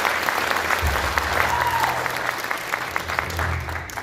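Audience at a Denver jazz concert applauding two student musicians, the pianist and bassist, with loud continuous clapping from a sizable crowd, a low voice murmuring underneath.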